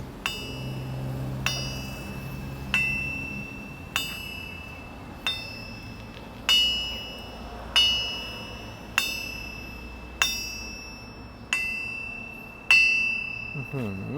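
Metal is struck about a dozen times at a slow, steady pace, each hit ringing brightly and bell-like before fading, with a faint low rumble beneath.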